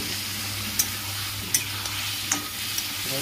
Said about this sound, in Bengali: আলু পটলটা ভাজা হয়ে গেছে, একটু গরম জল দিয়ে মশলাটা দিয়ে দিলাম